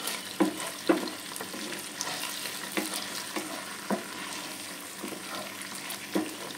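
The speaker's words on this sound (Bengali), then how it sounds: "এগুলো সব আমি একসঙ্গে মিশিয়ে নেব।" Mixed ingredients for chili chicken are stirred and fried in a pan, a steady sizzle broken by several sharp spoon scrapes and knocks spread across the stretch, with no voices.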